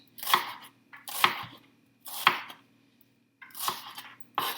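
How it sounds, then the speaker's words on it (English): Knife dicing onion on a cutting board: five loud, sharp chops, close and spaced about a second apart with a pause before the last two, and no talking. "Break it up a little bit, so that's diced onion."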